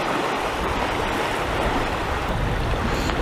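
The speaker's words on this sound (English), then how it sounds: "It gets quite noisy with these waves breaking on shore behind me." Waves break on a shore behind a fishing match bank, a loud continuous wash of surf and rushing water with no clear gaps and no talk.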